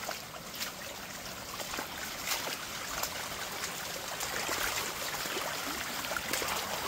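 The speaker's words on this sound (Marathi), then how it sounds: "इथून पाणी पण वाहतंय बघा. हे जाऊन खाली धबधब्यालाच मिळतं हे पाणी." A rain-swollen village stream runs down toward a waterfall, a steady broadband rush of flowing water heard fairly close with no talking.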